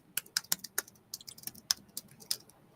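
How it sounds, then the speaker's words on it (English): Rapid typing on a computer keyboard, a quick irregular run of crisp key clicks at close range with no voices. "Typing as fast as I can."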